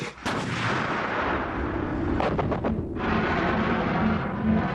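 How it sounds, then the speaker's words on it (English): A Starstreak missile launches with a loud close blast as its first stage rocket ignites, followed by a sustained roaring rush and a brief rattling burst partway through. "a pulse from the firing unit ignites the first stage rocket, launching the missile on its deadly journey"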